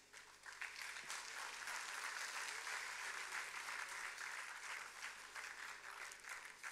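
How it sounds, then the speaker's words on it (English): Steady, dense applause from an audience welcoming guests onto a stage at a commemorative publication event, sustained and fairly distant throughout with no break. "It is time for all of us to welcome our guests with a big round of applause."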